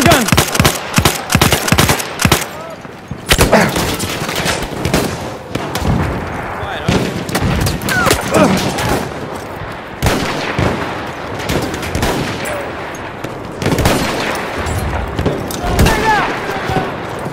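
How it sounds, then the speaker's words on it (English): Heavy battlefield gunfire in Battlefield 1, with rapid bursts of enemy machine gun fire among scattered shots and booms, loud and dense throughout, while voices shout over the din. "That's an enemy machine gun!"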